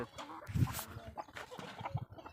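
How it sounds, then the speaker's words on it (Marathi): Chickens cluck in short bursts over a busy farmyard background, a few louder calls standing out near the middle and end. "काहीच कोंबड्या बघा, फक्त कोंबड्या बघा केवढ्यात केवढ्यात आहे इकडे."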